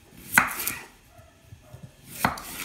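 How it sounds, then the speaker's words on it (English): A knife chopping a potato on a cutting board in a home kitchen, two sharp clusters of cuts roughly two seconds apart, close and fairly quiet with hushed handling between. "So I just get started by chopping the potato, as you can see."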